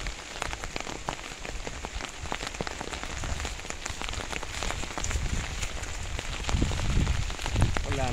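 Steady rain pours down outdoors in the countryside, drumming densely on surfaces with scattered nearby drops, loud and continuous with no talk over it.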